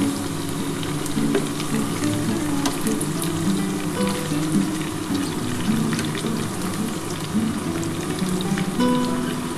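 Onion sizzles and crackles steadily in a hot oiled pan for chilli chicken, a continuous close frying hiss with occasional stirring and no speech.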